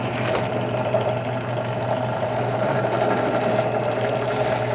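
A case trimmer mounted on a Dillon XL650 progressive reloading press trims rifle brass with a steady, continuous mechanical whir and hum, close and constant throughout with no talking.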